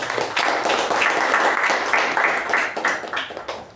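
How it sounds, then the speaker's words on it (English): A meeting audience gives a round of applause for the Sergeant at Arms, close, fairly loud clapping that stays busy and uneven for a few seconds. "A round of applause to Sergeant at Arms."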